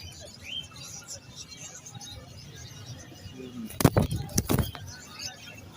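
Pigeons coo and flutter amid a busy Sunday bird market hum in Lalukhet, Karachi, with a few sharp nearby clatters and scuffles in the middle of the clip.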